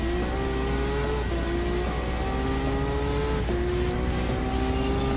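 Race cars in Gran Turismo 7, including a 2007 Audi R8 4.2, in a World GT Series Group 3 event: steady loud engine drone with rising gear-pitch sweeps and tire squeal, continuous throughout.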